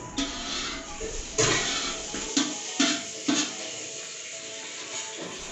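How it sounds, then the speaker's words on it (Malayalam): A spoon scraping and clinking in a hot pan while two spoons of Dalda ghee melt for a Malappuram-style biryani, with several light metallic taps over a steady low sizzle. "നല്ലോണം ചൂടായിട്ട് ഇളക്കി കൊടുക്കുകയാണ്. ഉരുക്കിയെടുക്കുകയാണ് നടുവിലേക്ക് വന്നിട്ട്."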